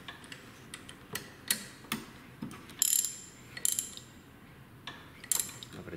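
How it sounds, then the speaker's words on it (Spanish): Ratcheting clicks from an angled wrench tightening the mounting bolts on a Bosch VE4 rotary injection pump of a TDI diesel, coming in short irregular bursts of crisp ticks, close and fairly quiet, with no talk. "Con una llave acodada se hace un poco más fácil"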